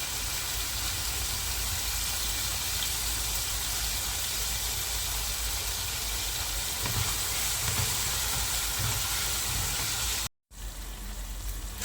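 Meat seasoned with salt and pepper frying in a pan, a steady broadband sizzle that runs loud and unbroken for nearly the whole stretch, dropping out briefly near the end before resuming.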